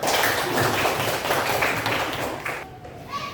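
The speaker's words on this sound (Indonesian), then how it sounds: "tepuk tangan untuk kita semua" Classroom audience clapping hands together in a dense, steady burst of applause that fades out near the end, with a brief voice afterward.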